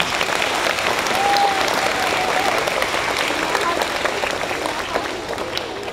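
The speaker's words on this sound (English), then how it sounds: "You give yourself a round of applause for that one." An audience at a school Red Ribbon rally claps in a sustained, loud round of applause that fills the room, fading slightly toward the end.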